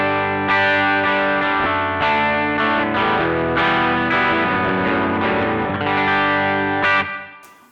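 An electric guitar played through a TC Electronic Arena Reverb pedal on a room reverb setting: a run of sustained, ringing chords with a short, roomy reverb wash, fading out at the end.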